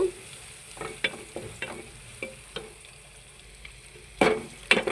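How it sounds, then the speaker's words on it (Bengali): Dried shrimp frying in a pan with onion sizzle softly under repeated scraping stirs, the spatula strokes landing as irregular sharp bursts, the last ones loudest, with no talking. "এখানে সুটকিটা একটু ভালোভাবে ভেজে নিব"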